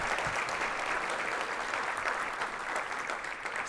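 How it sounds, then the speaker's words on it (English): Continuous audience applause at a conservation trust's annual meeting, a dense, steady wash of many hands clapping across the room for several seconds. "Maybe another round of applause for our outstanding chairman, Peter."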